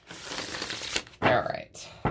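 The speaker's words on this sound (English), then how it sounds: "One more shuffle for my fellow Leos." Tarot cards being shuffled up close in two or three quick riffling bursts separated by short pauses, crisp and fairly quiet.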